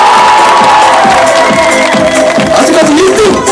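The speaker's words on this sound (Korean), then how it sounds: "우리 1번 잘했다 함성진 박수!" A crowd at a dance contest in Jeonju Hanok Village cheers loudly and continuously, with shouts and whoops rising over a dense din and a voice calling out over it.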